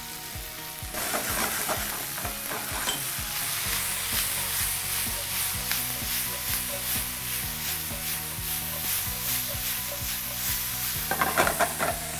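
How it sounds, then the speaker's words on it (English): Tomatoes and broccolini sauté in a hot pan with a loud, continuous sizzle and repeated stirring scrapes, heard up close with no talking. "we're gonna add our tomatoes, our broccolini, and we're gonna saute that"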